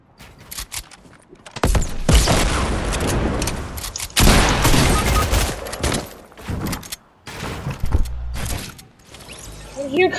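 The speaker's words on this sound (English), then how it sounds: "Oh my god, it's a bomb." A bomb explosion and bursts of gunfire in a Fortnite match, loud, dense blasts and rapid shots filling most of the stretch with a short pause near the end, while a player talks excitedly over them.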